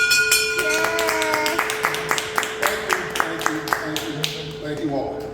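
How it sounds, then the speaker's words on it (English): A large bell rung to mark the end of prostate cancer treatment strikes repeatedly in a steady rhythm, each loud clang ringing on with long sustained tones, close and clear, with clapping and cheering mixed underneath. "it's with great honor that I ring the bell."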